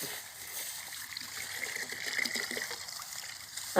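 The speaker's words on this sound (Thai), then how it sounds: "เอาน้ำล้นละกำลังเปิดน้ำใส่ถังเพื่อผสมยา" Tap water running into a tank to mix a spray solution in a durian orchard, a steady close trickle and splash that continues evenly without talk.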